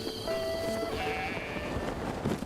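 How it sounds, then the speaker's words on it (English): Sheep bleat at a horse stable in Zelda: Breath of the Wild, a couple of wavering, tonal cries heard at moderate distance over a steady bed of ambient game noise, with no one talking. "There are more sheep than there are horses here."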